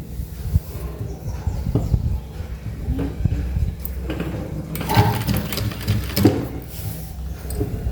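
A sewing machine stitches a folded fabric baby cap in a fast, close mechanical rattle that runs continuously, with brief pauses and handling clicks partway through.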